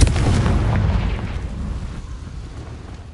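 A Confringo spell blast in the Hogwarts Legacy video game lands as a heavy booming explosion that rumbles and slowly fades, with no voices over it.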